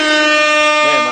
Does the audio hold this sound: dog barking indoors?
no